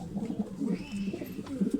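Batarli Adana pigeons coo in low, repeated throaty pulses nearby, a steady soft rolling rhythm with faint background noise.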